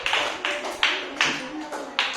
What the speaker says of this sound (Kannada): ಮುಗಿದು ಚಪ್ಪಾಳೆ ಹೊಡ್ರಿಪ್ಪ, ಎಲ್ಲ ಕರೆಕ್ಟ್ ಓದಿದ್ದಮ್ಮ, ಚಪ್ಪಾಳೆ ಹೊಡಿರಿ ನೋಡಿ